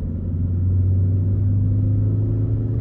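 A 2007 Opel Meriva 1.6 16V with automatic gearbox accelerating on an open road outside town, a steady deep engine drone from inside the cabin, close and loud, with no clear break for a gear change.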